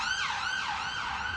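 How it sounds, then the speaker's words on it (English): Emergency vehicle siren wailing through near-empty London streets, a loud rising and falling tone that sweeps up and down, with no traffic or voices around it. "Near empty streets echo to the wail of sirens."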